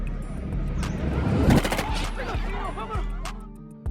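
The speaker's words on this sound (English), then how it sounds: "when Kevin tried to escape, the police shot him dead" Rapid gunfire as police shoot a fleeing man, a burst of loud close shots clustered together, with scattered further cracks and ringing metallic echoes trailing off afterward.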